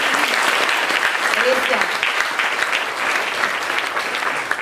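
Audience at a Slovenian Russian-themed evening lecture applauds steadily throughout, a dense close clapping wash with a brief spoken word over it.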